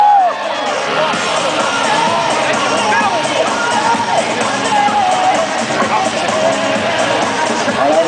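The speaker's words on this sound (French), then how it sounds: "le public est là pour applaudir" A large crowd at a sporting event, the Grappe de Cyrano, cheers and shouts steadily and loudly throughout, a dense, unbroken roar of voices and whoops.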